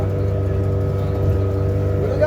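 Steady low drone of a boat engine cruising on the Godavari River at Yanam, even and continuous for the short stretch, with a voice speaking over it.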